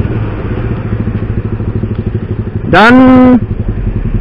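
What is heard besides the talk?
motorcycle exhaust sound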